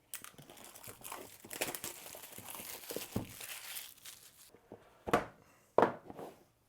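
Smartphone packaging is opened, with cardboard and plastic crinkling, sliding and rustling, ending in two louder sharp cracks from the box, all close and without talk.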